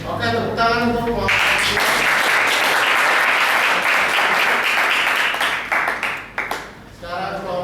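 A classroom group gets a burst of applause, dense clapping from many students swelling up right after a short spoken line and holding strong for several seconds, then thinning out as a voice returns at the end.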